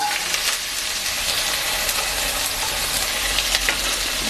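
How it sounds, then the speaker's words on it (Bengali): Bitter gourd and potato pieces fry in hot oil in a pan, giving a steady close sizzle with scraping stir strokes throughout. "করলা আর আলুগুলো সুন্দর করে ভেজে নেব।"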